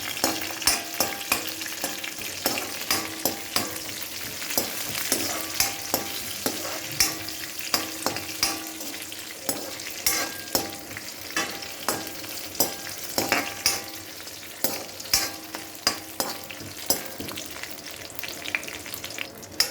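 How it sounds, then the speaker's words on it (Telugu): Coriander seeds, cumin and urad dal fry in hot oil in a pan while being stirred. There is steady close sizzling with repeated scraping and clinking stir strokes throughout. "కొంచెం జీరా, కొంచెం మినపప్పు యాడ్ చేసుకున్న తర్వాత మంచిగా కలిపేసుకోవాలి దీన్ని."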